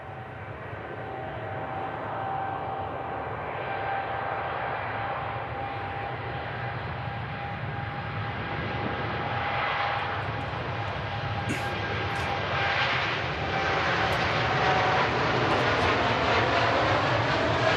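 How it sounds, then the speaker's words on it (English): A TUI Boeing 787 Dreamliner takes off at Manchester Airport, its jet engines a steady, building roar heard from a distance that holds and swells as the heavy aircraft rolls down the runway, with no talking. "Here you go, TUI Dreamliner on the roll."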